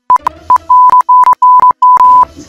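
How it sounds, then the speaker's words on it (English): Series of sharp electronic censor beeps, steady tones of varying length cut into a sung passage, loud and close with brief gaps between them. "I'm just gonna beep it out."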